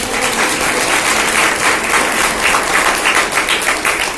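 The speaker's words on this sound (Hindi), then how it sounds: "तालियां तो बजा दो" Loud, steady applause from a church congregation, a dense, continuous clapping that holds evenly throughout with no voices on top.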